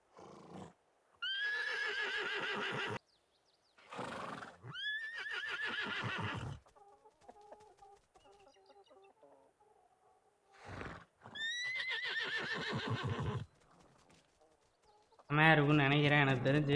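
Horses whinny and neigh repeatedly in loud, harmonic bursts while being tamed in the modded survival game Ark Survival Evolved, with quieter gaps between calls and a sharp buzzing game effect at the end.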